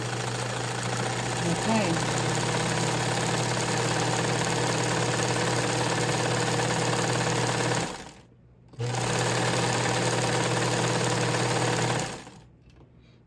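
A Montgomery Ward Signature UHT J260F sewing machine runs with a steady, close mechanical hum. It stops briefly, starts again, then stops, and someone says a single word.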